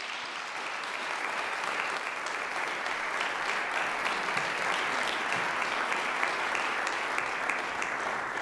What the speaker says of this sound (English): and with another round of applause